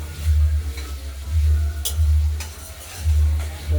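Pabda fish going into hot oil over a spiced masala, sizzling in bursts under a pulsing low rumble, with a couple of sharp crackles, close by.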